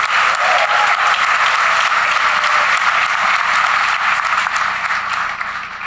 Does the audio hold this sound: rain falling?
no